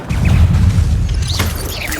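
An Incendio fire spell cast in Hogwarts Legacy produces a loud, deep whooshing roar of flame with low rumbling bursts and a few brighter crackles toward the end.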